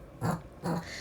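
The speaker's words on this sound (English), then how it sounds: "Sorry, that was my dog." A dog snorts twice in quick succession, short close breathy bursts with a brief pause between them, heard alone without talk.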